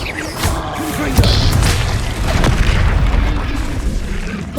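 A Confringo blasting spell explodes in the Hogwarts Legacy video game, a loud booming burst that keeps rumbling through dense low-end noise, with further bangs and crackles over a few seconds.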